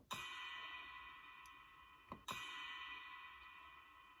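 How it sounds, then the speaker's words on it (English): A ride cymbal is struck twice, each hit blooming into a bright, shimmering metallic ring that sustains and slowly decays, close and clear with no voices. "Ride cymbal is a long sound."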